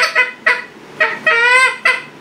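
A goose call fitted with flex guts blows a string of honks and clucks, about five short notes with one drawn-out honk in the middle, loud and near with no talking.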